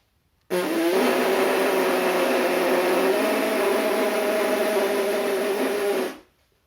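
A voice imitates a plywood cutter with one sustained, buzzing whine that starts abruptly, holds steady for several seconds with a slight shift in pitch partway, then cuts off, loud and close.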